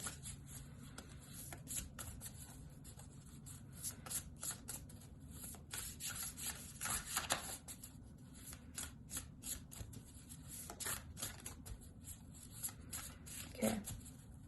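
Oracle cards being shuffled by hand, a steady run of soft papery riffles and slaps close by, quiet and continuous with no talking.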